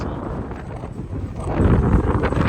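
Strong typhoon wind gusting in Hong Kong, a loud continuous roar and rumble buffeting the microphone, building stronger in the second half.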